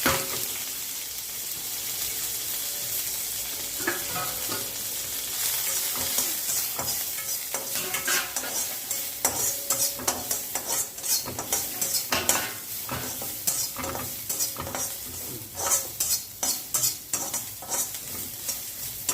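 Mustard seeds, cumin, onion and curry leaves sauté in hot oil for a sweet potato uttapam, sizzling steadily while a spoon scrapes and clatters against the pan, the stirring growing busier and more rhythmic toward the end.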